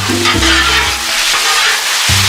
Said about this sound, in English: We're just finishing up some stir fry here.